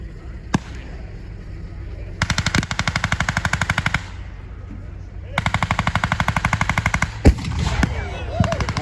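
Automatic gunfire rattles in two long rapid bursts at a World War II reenactment encampment, with a 76mm cannon from an M18 Hellcat tank destroyer booming as single sharp reports between them, loud and close outdoors.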